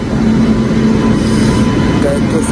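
A passenger train arriving at a station platform on the way to Vijayawada, a steady loud rumble with faint wheel squeals and station crowd noise, with some talk in the background.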